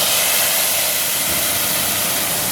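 A hot tempering of fried spices is poured into cooked mung dal with spinach, giving a loud, continuous, steady hiss close up, with no pauses and no voices.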